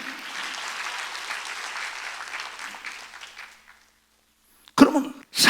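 Sustained applause from a church congregation during a Sunday worship service, a steady wash of clapping that fades out to silence, then a couple of sharp close coughs or throat clears.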